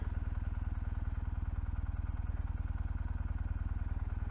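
A Kawasaki W800 motorcycle's parallel-twin engine putters along in an even, rapid thumping rhythm, steady and fairly close, with no voices over it.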